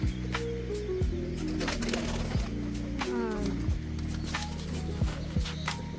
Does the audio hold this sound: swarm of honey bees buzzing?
no